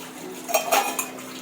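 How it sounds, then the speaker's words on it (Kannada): Dishes and cutlery clinking softly during washing, a few light clatters over a steady background hum. "ನಮ್ಮ ಮಮ್ಮಿ ಪಾತ್ರೆ ತೊಳೆಯೋದ್ರಲ್ಲಿ ಬ್ಯುಸಿಯಾಗಿದ್ದಾರೆ"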